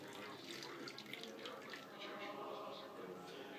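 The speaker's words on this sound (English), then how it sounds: "you add a 1/3 cup of lukewarm milk" Lukewarm goat milk is poured into a yeast mixture for Norwegian julekake dough, a soft, faint liquid trickle and splash heard close by.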